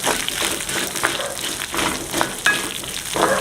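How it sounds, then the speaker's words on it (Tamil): Fenugreek seeds dry-roasting in a pan give a steady, close crackling sizzle with scattered small pops and scrapes of stirring throughout, with no talking. "இதை வறுத்து வைக்க போகிறோம்."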